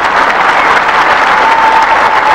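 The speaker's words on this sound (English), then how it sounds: "But there's a very friendly hand for Jimmy." A large crowd at a 1975 Australian Open tennis match between Newcombe and Connors applauds steadily and loudly, a dense continuous wash of clapping with no talk.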